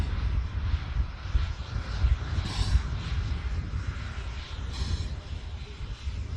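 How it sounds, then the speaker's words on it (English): An Airbus A380 on final approach at Manchester Airport, a continuous low engine rumble with wind noise at a distance, steady and fairly loud with a couple of faint higher whooshes. "I do have a 380 now, just beginning its final approach"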